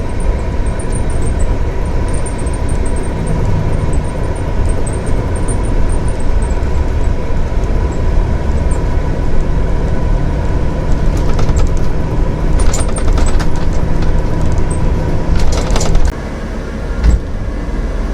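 A Cummins diesel engine in a Winnebago Journey diesel pusher motorhome on a Freightliner chassis idles with a steady, loud low rumble and hum. A few brief clicks and rattles sit over it near the end.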